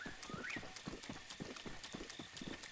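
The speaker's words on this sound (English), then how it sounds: "Found a freaking stall horse." Stalhorse hooves in Zelda: Breath of the Wild, a steady rapid clip-clop of galloping steps over a soft ambient game background, faint and evenly paced.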